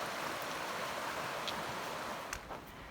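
The Little Wind River runs beside a backpacking trail in the Wind River range, a broad steady hiss of flowing water that eases slightly toward the end.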